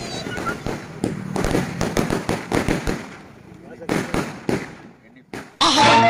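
Firecrackers burst in rapid, loud crackling volleys during a village Diwali celebration, with scattered sharp pops and a final dense burst, while voices talk nearby.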